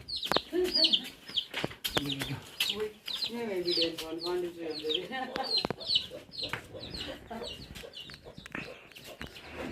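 Several chickens cluck and squawk close by in a busy, overlapping chorus, with a rooster-like call rising in the middle.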